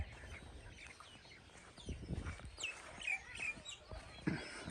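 Birds call on a fresh morning, with scattered chirps and tweets and a few clucking, chicken-like calls over low background noise, some near and some farther off.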